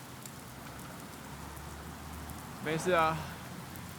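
Steady rain falls throughout as an even, soft hiss, and a voice speaks briefly near the end.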